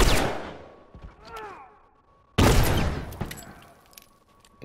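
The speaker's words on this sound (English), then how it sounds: "I'm gonna detonate that bomb." A bomb detonates in The Last of Us Remastered multiplayer, a loud close boom that trails off, followed by a second sharp blast and more crackling gunfire-like bursts fading away.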